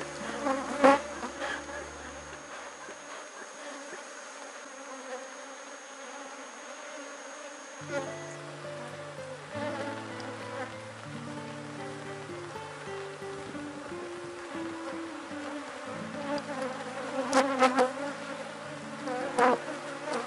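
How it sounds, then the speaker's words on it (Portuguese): Apis honeybees buzz continuously in a dense, droning swarm during a hive split, close and steady, with occasional louder passes and faint handling noises. "A gente tentar manter o máximo que a gente puder as abelhas dentro."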